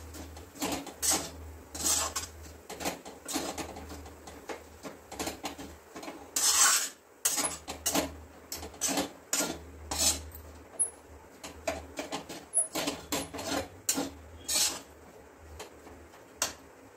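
Coconut powder is stirred into raw banana in a pan for barfi, giving repeated rasping scrapes and clinks of a spoon against the pan in irregular bursts, close and fairly loud, with no voices.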